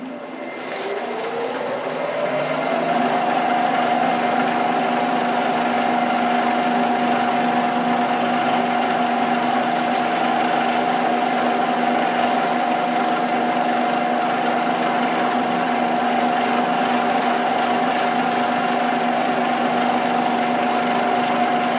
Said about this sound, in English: Just got a 6mm ball nose end mill in there, and we're just running the Bridgeport at 1500 RPM.